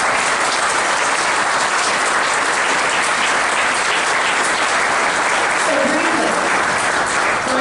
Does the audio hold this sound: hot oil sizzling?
no